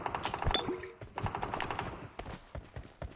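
A gun fires in a video game in rapid, clipped bursts of shots with short gaps between them, loud and close, with uneven rhythm across the few seconds.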